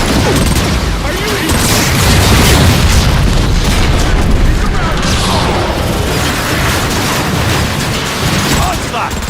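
Shells blowing up in Transformers: Fall of Cybertron, a dense, continuous roar of loud booming explosions and crashing debris that fills the whole stretch with no letup.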